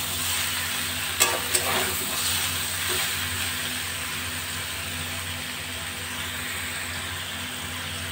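Jackfruit pieces fry in a pan over a raised gas flame, giving a steady broadband sizzle with a couple of sharp utensil clicks early on, close and continuous throughout.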